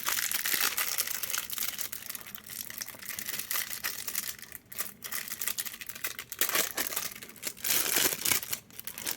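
A Pokémon Elite Trainer booster pack wrapper is crinkled and torn open up close, a continuous rustling foil crackle with sharper tearing bursts and no talking.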